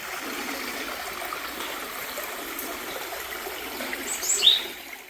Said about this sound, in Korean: 오솔길 옆으로 작은 계곡이 흐르는데요.